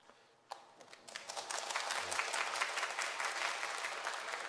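A church congregation breaks into blessing applause during a Sunday service, starting with a few claps and swelling into sustained, dense clapping from the whole room.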